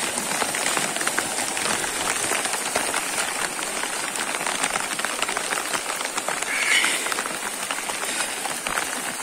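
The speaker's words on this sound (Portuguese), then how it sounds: "Na hora da chuva, no exato momento agora." Heavy rain pours steadily in Ceará, Brazil, a dense unbroken hiss of drops drumming on surfaces, loud and close for the whole stretch with no voices over it.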